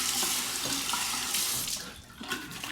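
A bathroom tap runs steadily as a safety razor is rinsed under it, a close, continuous splashing stream that briefly dips near the end before resuming, with no voices.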